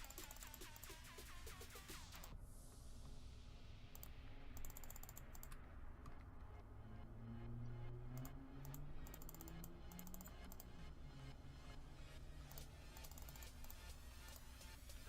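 Rapid, steady computer keyboard typing and mouse clicking during a game of Bloons TD Battles, faint and continuous behind a low hum, with no voices.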